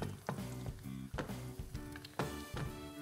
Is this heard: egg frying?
yes